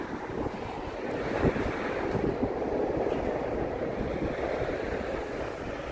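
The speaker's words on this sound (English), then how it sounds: "There goes the L train. The L train's going by up there." A Chicago L train rumbles past on elevated tracks near the Chicago River North area, a loud, continuous roar and clatter filling the whole stretch, mixed with wind buffeting the microphone.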